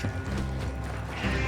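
Horses hitched to a coach in Red Dead Redemption 2 clop and shuffle amid creaking, rattling harness and wheel noise, with a brief snort-like sound, fairly close and steady.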